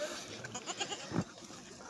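A goat on a small farm bleats in a few short, wavering calls, close by, with faint farmyard background and no speech.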